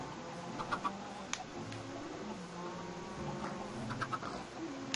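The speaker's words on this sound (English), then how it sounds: "I have a lot of chickens." Chickens clucking in Minecraft on Xbox One, a few short, scattered clucks over a soft, steady game ambience, fairly quiet and without talk.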